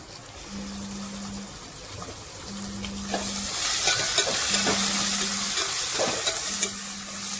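Tomatoes fry in an oiled pan for vada curry, a continuous close sizzle and hiss that swells midway, with a faint repeating low hum and occasional stirring sounds, no speech.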